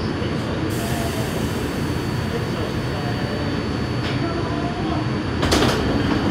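A New York northbound 5 Express subway train rumbles along between Bowling Green and Grand Central with a steady roar of wheels on rails, brief metallic squeals and clatters punctuating the noise; no clear talking.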